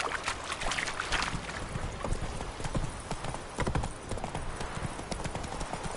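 Hooves of the horse Roach in The Witcher game pound in a fast, rhythmic galloping clip-clop, close and continuous, over a faint ambient wash.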